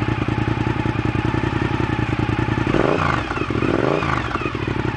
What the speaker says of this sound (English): Oh yeah, the V-twin. Just rev it a little bit.